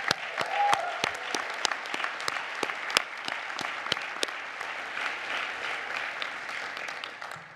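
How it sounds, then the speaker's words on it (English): A medium-sized commencement audience claps for faculty and staff, dense steady applause with sharp individual claps standing out, moderately close and alone without talk. "let's give them a special round of applause."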